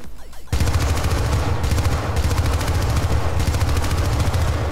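After a brief lull, rapid sustained machine-gun fire erupts in the video game Syndicate, loud and continuous with dense rattling bursts, close.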